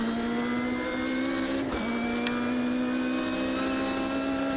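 A race car engine in the sim racing game Automobilista 2, droning at a steady high pitch with a brief dip in revs and a few faint clicks, loud and close with no voices.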